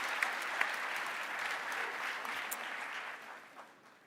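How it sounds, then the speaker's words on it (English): An audience applauds a performer after an O Canada rendition at a municipal convention, a dense, moderately distant clapping that holds steady and then tapers off toward the end. "A big hand for Tegan Little Chief."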